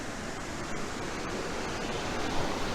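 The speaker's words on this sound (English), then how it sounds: "The little rapids." Small river rapids near a waterfall in Honesdale, PA rush in a steady, broad wash of water, constant and fairly loud with no voices.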